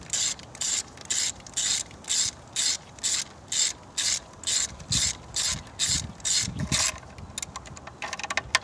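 A ratchet tightens a spark plug on a Chevy Cobalt engine, with about fourteen evenly spaced bursts of close, loud clicking, then a few quicker, shorter clicks at the end.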